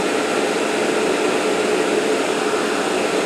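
An ALC60X argon laser idles at about 4.2 amps, its cooling fan giving a steady, loud broadband whoosh with a faint tonal hum, unchanging throughout and with no voices.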